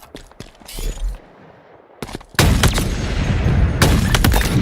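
Sniper rifle shots ring out during a Halo Team Slayer multiplayer match. Sharp, loud cracks are followed by a dense stretch of continuous gunfire and booms in the game's mix.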